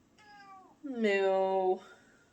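A pet cat meows twice indoors, a short descending meow followed by a louder, longer drawn-out one, close to the listener with no other sounds.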